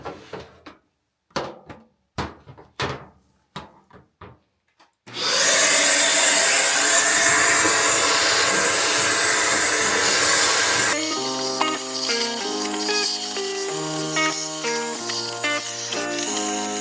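A clothes dryer runs with a dryer vent lint cleaning kit hooked up, first a series of sharp knocks and clatters, then a loud continuous rushing roar of air, later joined by tonal music.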